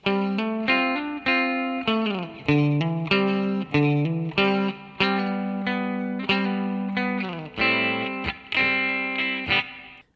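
Electric guitar turnaround, played solo as a steady run of picked notes and double stops with hammer-ons and slides, each note ringing briefly in a rhythmic pattern.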